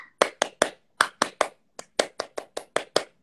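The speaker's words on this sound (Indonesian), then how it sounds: "Tepuk pramuka" Indonesian scout clapping: a crisp, rhythmic pattern of about fifteen sharp hand claps in grouped beats, close and alone in a quiet room.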